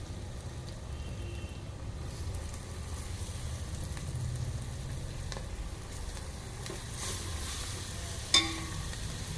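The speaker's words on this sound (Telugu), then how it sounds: "ఇప్పుడు బాగా ఫ్రై అయినాక దీంట్లో మెంతి కూర వేసి ఫ్రై చేద్దాము." Fenugreek (methi) leaves frying in a pan for a vegetable curry, giving a steady close sizzle with soft stirring scrapes and one sharp clack near the end, no talk.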